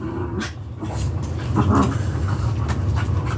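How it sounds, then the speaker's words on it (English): A dog pants steadily nearby, with quick rhythmic breaths and a few faint whimpers over a low background hum. "Sorry if y'all can hear my dogs."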